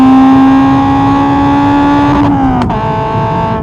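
A Honda Civic Type R EP3 fitted with a Spoon exhaust revs loudly and steadily close by, the engine note held high before dropping as the throttle eases off near the end.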